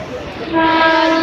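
A local train running loudly nearby, its steady rumble joined midway by a sustained horn-like tone.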